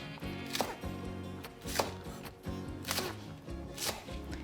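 A knife chops green onions on a cutting board in a kitchen, a quick, even run of close taps that carries on steadily for a few seconds.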